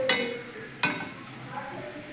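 Onions frying in oil in a wok, with two sharp scrapes of a spatula against the pan over a faint sizzle, close and fairly quiet.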